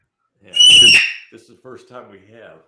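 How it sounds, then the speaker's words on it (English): A pet bird in a room gives a loud, shrill screech, harsh and close, then people start talking over it while the bird quiets. "that's the bird in the background."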